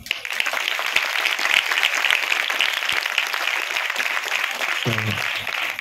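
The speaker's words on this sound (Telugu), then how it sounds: "ఎలా అనిపించిందో మీ క్లాప్స్ లోపల చెప్పండి" Applause from an audience at a short film premiere event, a sustained crowd of clapping hands heard steadily throughout, with a brief low voice near the end.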